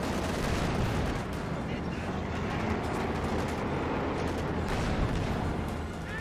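Artillery and gunfire in a Company of Heroes 2 battle, a dense, continuous rumble of distant shelling and shots with no clear pauses, steady and moderately loud throughout.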